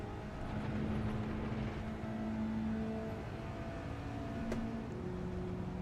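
A racing car engine in a Mazda Cup sim race holds a steady drone, with tones rising and falling through gear changes and a faint click partway through, heard alone at moderate volume.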